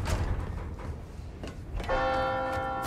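A bell in Resident Evil 4 Remake rings out with a sustained, ringing tone after some muffled game ambience, fading slowly with no talk.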